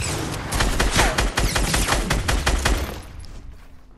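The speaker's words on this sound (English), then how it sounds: "Keep on shooting them, Emma" Rapid gunfire in a Fortnite Battle Royale match: dense bursts of automatic shots crackle loudly for about three seconds, then fade out.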